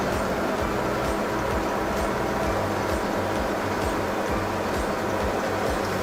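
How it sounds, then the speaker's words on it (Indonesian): The high-power blower motor of an IP-400 grain dryer runs continuously, a loud, close, steady roar with a rhythmic low throbbing pulse underneath. "Suara agak terberat ini adalah suara blower."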